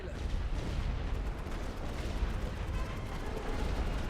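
Artillery barrage in The Great War: Western Front, a World War I game, plays as a dense, continuous low rumble of distant shelling, heavy and steady throughout with no clear gaps, with faint voices.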